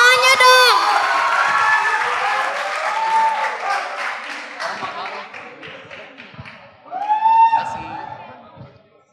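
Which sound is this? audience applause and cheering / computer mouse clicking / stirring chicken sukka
audience applause and cheering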